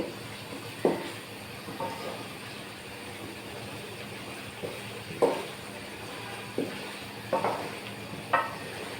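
Katla fish pieces are gently turned through spice paste in a hot pan, giving soft sizzling with a few light scrapes and stirs at irregular intervals, no voices.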